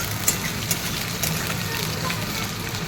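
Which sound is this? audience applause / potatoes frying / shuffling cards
potatoes frying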